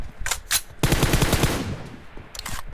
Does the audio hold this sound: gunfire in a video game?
yes